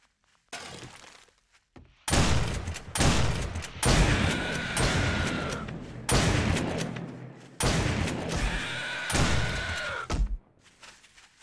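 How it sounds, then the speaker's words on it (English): Gunfire in 7 Days to Die cracks out in several loud, separate bursts, with sharp impacts and glassy breaking sounds between short pauses, heard with no talk. "Someone's shooting something, that's not me."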